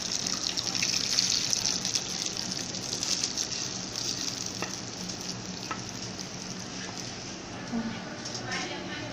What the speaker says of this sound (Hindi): अब मैं इसमें तड़का लगाऊंगी।